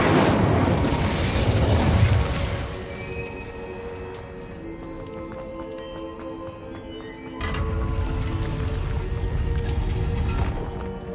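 Fiery whooshing blasts of an Incendio fire spell in Hogwarts Legacy, a loud roaring burst over game music that dies down mid-clip, then flares up again and sustains to the end.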